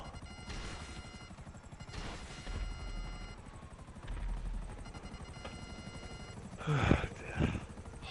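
A steady helicopter rotor chop in GTA Online plays throughout, with sharp crashing impacts and bangs near the end, all at low volume.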